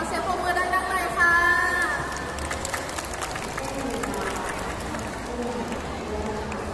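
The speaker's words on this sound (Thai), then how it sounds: "ขอเสียงปรบมือดังๆเลยค่ะ" A school open house audience applauds student music performers, giving dense, steady clapping that fills the room with a voice speaking over it at the start.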